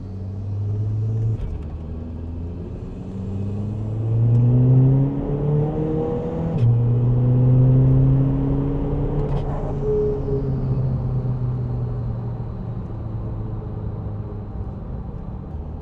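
A 342 bhp all-wheel-drive VW Scirocco 2.0 TDI with DSG gearbox drives along, its diesel engine rumbling low and rising and falling through gentle revs and shifts, heard steadily from inside or nearby.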